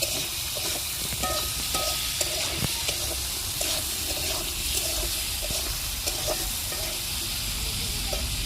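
Bitter gourd frying in oil in a pan, a steady loud sizzle with scraping stirring strokes throughout and no talking.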